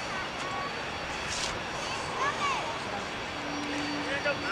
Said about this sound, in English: A320 there with Pegasus.